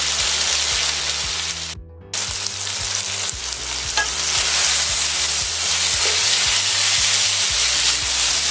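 Strips of beef sizzle and fry loudly in a hot pan, a dense, steady crackle with regular low thumps throughout and a brief drop-out near two seconds; no one talks.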